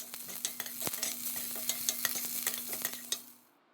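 Onions and curry leaves sautéing in a pan with a pinch of salt, a brief close sizzle broken by quick scrapes and taps of a spoon stirring, then fading out at the end, no talk.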